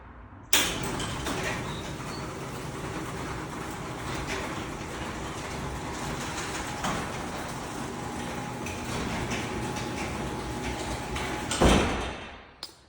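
A garage door rumbles steadily as it lowers for several seconds, a continuous mechanical drone that ends with a thud as it shuts.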